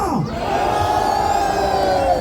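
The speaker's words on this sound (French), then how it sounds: "À 3, je veux vous entendre hurler et lever les bras en l'air" Crowd at a Capcom cosplay parade on stage at Paris Games Week 2024 screaming, whooping and cheering loudly and continuously, a dense roar of many voices.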